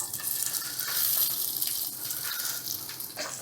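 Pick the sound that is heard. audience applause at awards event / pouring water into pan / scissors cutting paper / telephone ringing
pouring water into pan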